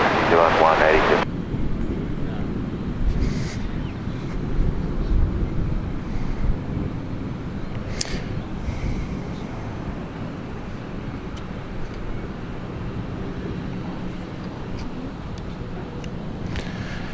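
An Air New Zealand airliner on approach to land at Gold Coast Airport, out over the Currumbin Beach area, gives a distant, steady low roar against wind rumble, with faint voices now and then.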